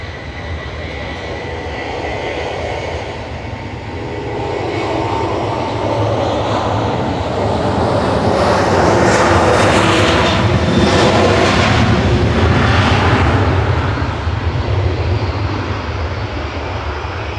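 Ryanair airliner departing Manchester Airport, a loud jet roar that builds steadily and peaks near the middle before easing slightly, heard alone without talk.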